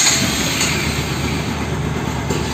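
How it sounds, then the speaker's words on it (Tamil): Motorcycle engine starting up after a carburettor refit, a steady broadband running drone that stays loud and constant throughout with no talk over it. "வண்டியை ஸ்டார்ட் பண்ணி செக் பண்ணலாம்."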